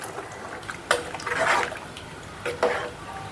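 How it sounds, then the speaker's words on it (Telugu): Ground lentil paste poured into cooked vegetables in a pot for sambar, soft wet sloshing and glugging in a few bursts with light clinks of the vessel, close by. "ఉడికిన కూరగాయలలో అయితే పప్పు అయితే పోస్తున్నాను."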